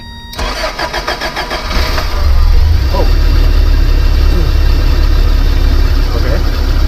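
A van engine cranks with a rapid stuttering whir, catches after about two seconds and settles into a steady, loud idle; a short exclamation is heard during the start.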